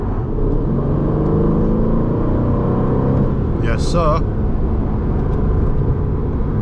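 An Aston Martin sports car engine drones steadily from inside the cabin while driving, with a voice speaking briefly over it.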